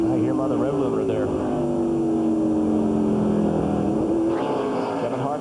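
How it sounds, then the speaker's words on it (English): NASCAR stock car engines at the 2003 Subway 500 race, a loud, steady high-pitched drone with layered harmonics that holds near one pitch throughout, under continuous race commentary. "I hear him on the rev limiter there"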